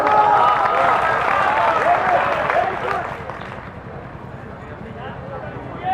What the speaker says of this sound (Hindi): आप लोगों की तरफ से मैं एक बार आप ताली बजावें